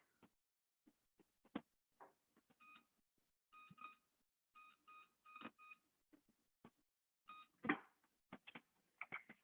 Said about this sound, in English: So I'm gonna set my timer for 8 minutes.